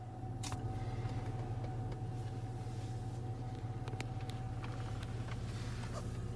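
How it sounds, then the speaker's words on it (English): A BMW 5 Series F10 engine idles at a steady low hum inside the car, a quiet even rumble with a faint whine and a few small clicks, no talking. "The engine is running now,"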